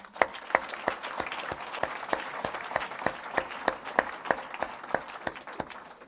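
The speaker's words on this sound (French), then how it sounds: "On acclame le Seigneur pour elle." A church congregation at a healing service applauds in a steady, rhythmic clap, with sharp beats repeating about every third of a second. A faint murmur of voices runs underneath.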